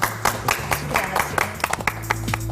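An audience claps at the close of a televised talk on humanizing cancer care, uneven hand claps ringing out over a low musical tone, fairly close and moderate in level.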